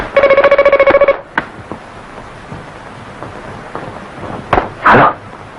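An old-style telephone bell rings in a rapid trill for about a second in a vintage Indonesian film, then stops, followed by faint handling clicks and a brief rustle.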